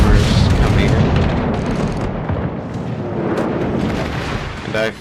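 Heavy naval gun salvos fire in a warship video game during a battle near an island, a dense rumbling barrage of booms rolling continuously through the whole stretch, loud and close, with a sharper burst near the end.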